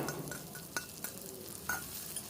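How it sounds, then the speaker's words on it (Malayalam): Chopped ripe jackfruit sizzles in hot ghee in a pan, a steady soft frying hiss with a few sharp scrapes and taps from the stirring spoon. "ഇനി നമുക്കിതിലേക്ക് കുറച്ചുകൂടെ നെയ്യൊന്ന് ഒഴിച്ചു കൊടുക്കാം. അതിനുശേഷം കുറച്ച് ചക്കപ്പഴം ചെറുതായിട്ട് നുറുക്കിയത് ഇതിലേക്ക് ഇട്ട് കൊടുക്കാം."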